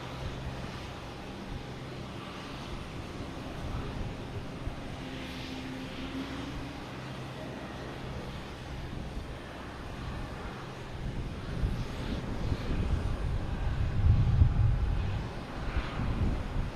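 Lufthansa Airbus A380 arriving at Boston Logan Airport, a steady distant engine rumble that swells and grows louder toward the end as the huge four-engine jet approaches, with wind buffeting the microphone.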